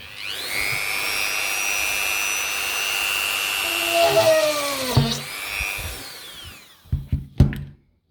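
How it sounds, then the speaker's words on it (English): A Dremel 3000 rotary tool drills a hole in wood with a high, steady whine that wavers in pitch as it bites, then winds down and stops, followed by a few sharp knocks. "This tool is also from Dremel. It's just we're going to try to make a hole in the same wood."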